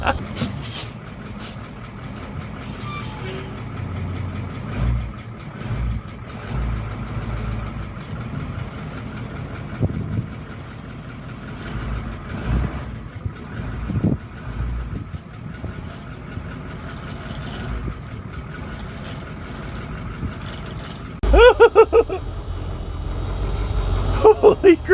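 A 1978 Bluebird diesel school bus engine rumbles steadily at close range on its first drive in years, with rattles and knocks throughout and a louder rough burst near the end.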